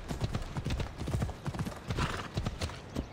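Horse hooves clip-clop in a steady, quick rhythm on the ground in the video game Assassin's Creed Odyssey, moderately near and fairly quiet, with no speech over them.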